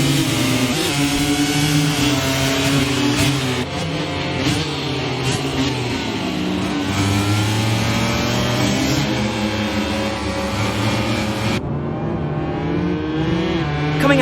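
Racing motorcycles in MotoGP 25, a Ducati among them, scream past with loud, high-revving engines whose pitch rises and falls through gear changes and shifting, overlapping whines, steady and close throughout.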